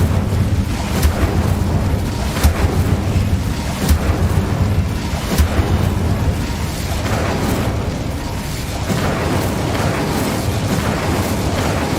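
Incendio fire spell cast in the Hogwarts Legacy video game, a series of loud fiery bursts and booms over a dense, roaring game soundscape.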